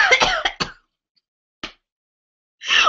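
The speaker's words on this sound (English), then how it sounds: "Why am I coughing?" A few short coughs and throat-clearing bursts from one person during a live beauty broadcast, with a sharp cluster at the start, a lone brief cough later and a final burst, separated by near silence.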